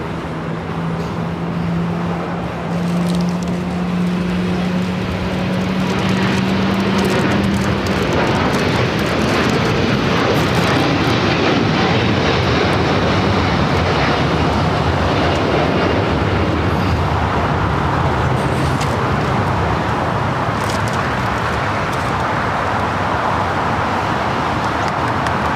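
El Al Boeing Dreamliner jet, flight 6 bound for Tel Aviv, takes off down runway 25 right at Los Angeles LAX, its engines a loud, sustained roar that swells and holds through the takeoff roll, with no talk over it.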